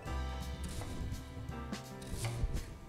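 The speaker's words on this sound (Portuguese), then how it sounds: "Corta aqui a cebola" Knife cutting an onion in half on a board, a quick series of close, crisp chops and taps, fairly quiet.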